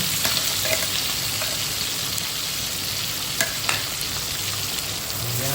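Onion-tomato gravy sizzles and fries in a pan, a steady close hiss with small crackles and the occasional scrape of stirring, and no voices.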